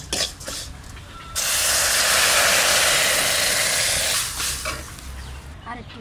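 Water poured into mung dal frying in a hot pan hits with a loud, sudden hiss of steam that holds strongly for about three seconds before fading, with someone talking faintly around it.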